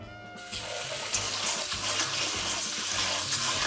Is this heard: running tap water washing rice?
yes